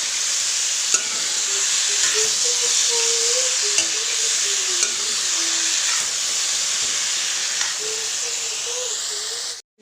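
Banana stem (pachola) fries and gets stirred in a hot pan, giving a loud, steady steamy hiss with occasional soft scraping, close up and unbroken until it cuts off.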